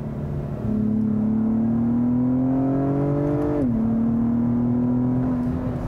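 A 2021 Acura TLX Type S with its 10-speed automatic blips its engine in a rev-matched downshift: a steady smooth hum climbs in pitch, then drops sharply and settles back to a constant drone.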